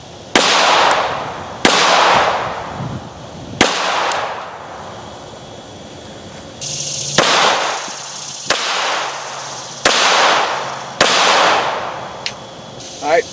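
Pistol shots fired one at a time through a chronograph outdoors, about eight sharp loud reports spaced one to two seconds apart, each with a short decaying tail, with no talking.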